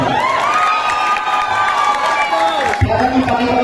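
A crowd cheers and shouts after a Rubik's cube vanishing magic trick, loud, close, and sustained, with whoops and a brief hum of voices, though clapping itself is hard to make out.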